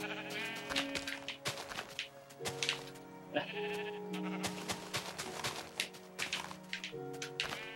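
Sheep in the Minecraft video game bleat repeatedly, several overlapping wavering calls close by over steady game sounds, with no talking.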